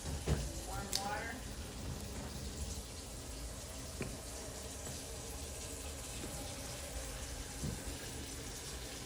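Warm water runs steadily into a basin at a bedside for patient care, a continuous soft splashing gush throughout with faint clinks and handling noises.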